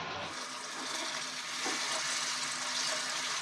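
Eggplant, potato and ivy gourd sauté in a pan for a Maharashtrian bhaji, giving a steady close broadband sizzle that continues unbroken, with a few soft stirring scrapes and no voices.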